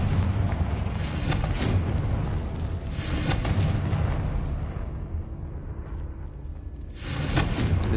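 Confringo blasting spell going off in Hogwarts Legacy, deep booming explosive bursts with heavy rumbling low end, a couple of loud blasts separated by a sustained roar that fades and then swells again.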